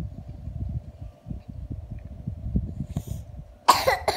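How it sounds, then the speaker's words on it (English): Harsh coughing, with one loud, sharp cough near the end standing out over softer, muffled throat noises and rustling close by. "Why so many cough ah?"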